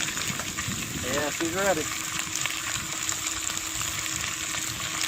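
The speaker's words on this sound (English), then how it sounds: "Hear that sizzle?" Chicken chunks sizzle and fry in olive oil inside a camp pot outdoors, a steady crackling hiss throughout while someone speaks briefly over it.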